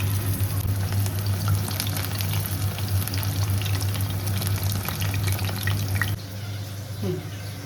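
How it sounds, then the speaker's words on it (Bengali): Oil heats in a pan for chili chicken, giving a loud, steady crackling sizzle with scattered pops and a low background hum throughout. "আর তেল গরম করতে দিয়েছি।"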